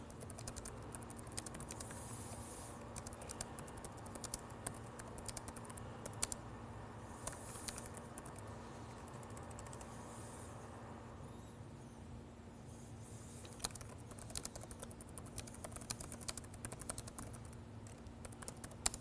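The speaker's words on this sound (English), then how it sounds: "I'm typing here real quick." Rapid, quiet typing on a computer keyboard, an irregular patter of key clicks that runs steadily throughout over a low background hum.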